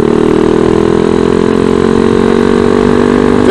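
ZS190 Grom clone motorcycle with a very loud exhaust, idling close by in a steady, loud, even drone throughout, with no voices.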